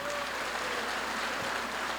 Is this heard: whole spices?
no